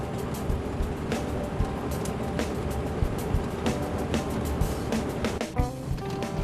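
An old truck on a corrugated dirt track in Cape York, driving toward the Jardine River, gives a steady, loud, continuous rumble and rattle with scattered clunks and knocks throughout.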